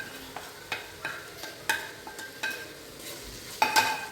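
Ingredients sautéing in a pan for a tamarind curry, a soft background sizzle punctuated by a regular series of scraping stirs and light metallic clinks of a spoon against the pan.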